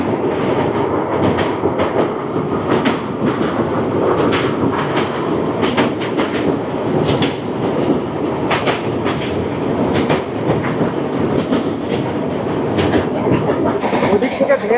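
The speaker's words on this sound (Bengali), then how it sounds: "ওদিক থেকে ধেয়ে আসছে 13-147 শিয়ালদা বামনহাট উত্তরবঙ্গ এক্সপ্রেস" The Sealdah–Bamanhat Uttar Banga Express passenger train roars past close by, with loud continuous rumble and rapid rhythmic clacking of wheels over rail joints for the whole stretch, while a person talks over it.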